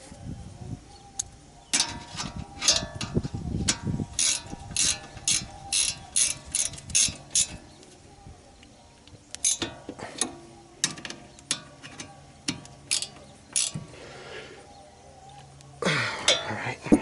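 Ratchet tightening rear brake bolts on a Dodge Dart, rapid clicking bursts repeated in quick runs with short pauses, close and crisp, with a faint metallic clink near the end and no talking.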